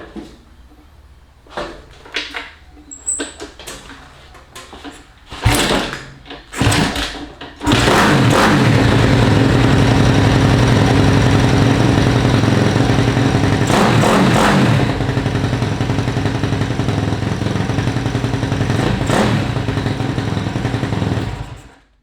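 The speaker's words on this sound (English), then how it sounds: "let me see if I can turn it over now just with the Kickstarter" A 1972 Honda CT70 resto-mod with a Daytona 190 engine, kicked several times with clunks and sputters before catching and settling into a loud, steady idle that runs close and continuous.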